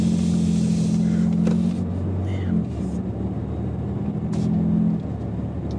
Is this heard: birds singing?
no